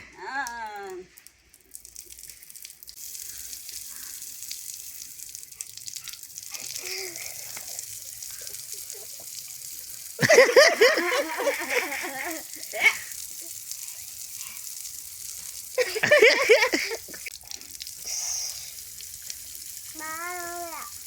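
Water gushes from a newly fitted pipe at a family home, a steady hiss running under the whole scene while people talk intermittently nearby.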